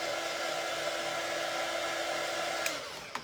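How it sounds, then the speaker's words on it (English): A hair dryer blows steadily on a freshly painted summer truck door hanger craft piece, a close continuous whoosh with a couple of small clicks near the end. "I'm going to hit this with the dryer"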